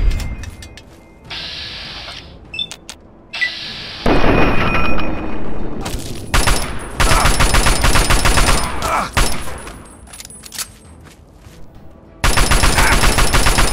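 Bursts of game gunfire and grenade blasts from Fallout 3, loud and close, with rapid automatic fire and heavy booms clustering in dense stretches separated by brief quieter gaps.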